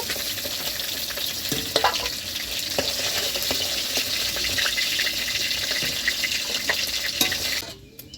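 Fish heads frying in oil crackle and sizzle steadily at close range, with occasional utensil knocks and scrapes, before the sound cuts off abruptly at the end, with no speech.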